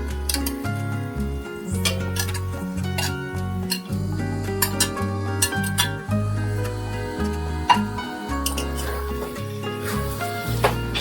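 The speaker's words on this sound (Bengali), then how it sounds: "ভালো করে নেড়ে চেড়ে মশলা এবং সবজিগুলো ভালো করে মিশিয়ে নিতে হবে" A utensil stirs fried mixed vegetables and spices in a pan with sour yogurt, giving steady scraping and clinking with sharp metallic taps throughout, fairly quiet and with no talking.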